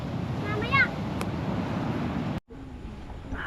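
Wind blows outdoors near the coast, a steady rushing buffet that is loud on the microphone, with a brief faint voice early on and an abrupt cut before the wind resumes more softly.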